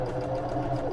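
A sewing machine runs a quarter-inch seam across the top of a fabric treasure bag, a steady close mechanical whir with a rapid even stitching rhythm throughout the brief moment.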